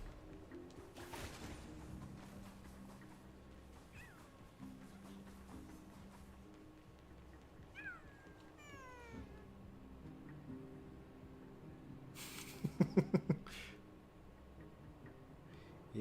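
Small puff pastry cake cats in Honkai: Star Rail meow several times in short, soft calls over quiet game ambience, followed near the end by a quick burst of light ticking clicks.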